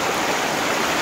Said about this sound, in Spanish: Ve aquí el río que nosotros tenemos, muy bonito, y pueden ver ahí, bien limpio